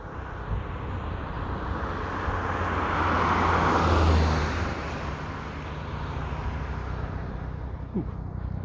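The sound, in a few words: real helicopter flying overhead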